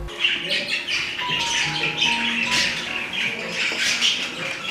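Budgerigars at an eco-centre squawk and chatter continuously in a dense, bright flock, with overlapping calls close by and no talking.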